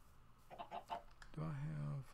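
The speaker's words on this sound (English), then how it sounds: "Hey, chickens." Chickens in a survival island video game give a few short clucks and then a longer drawn-out squawk, at a low level.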